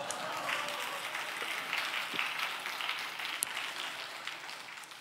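Audience at a church new-life festival event applauding, a sustained, moderately distant crowd clapping that carries evenly for several seconds with occasional sharper claps.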